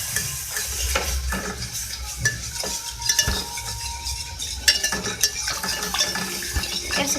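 Flour mixture roasting in a pan for a white sauce, stirred with a utensil: steady soft sizzle with repeated scraping and clinking strokes, close up and moderately loud, no talking.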